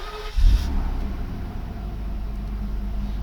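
A Mercedes 600SL engine turns over and catches, with a short low thump at startup before settling into a steady, rumbling idle close by.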